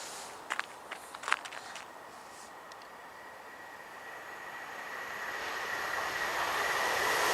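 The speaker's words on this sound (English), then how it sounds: "Now about to pass through non-stop is another Class 170 going from Edinburgh Waverly to Dundee" Class 170 diesel train passing non-stop through South Gyle station on the Fife Circle line: a faint growing rush and rumble building steadily toward the end, after a few brief clicks and a thin high tone, fairly distant.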